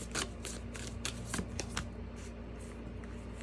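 Moonology oracle cards are shuffled and drawn by hand, giving quick papery riffles and soft flicks close up against faint background hum, with no talking.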